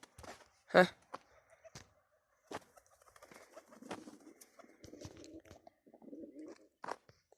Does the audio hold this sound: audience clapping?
no